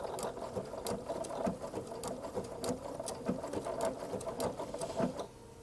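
A sewing machine stitches wool applique onto a background fabric with a quick, steady rhythmic patter, close and fairly quiet, with no voices.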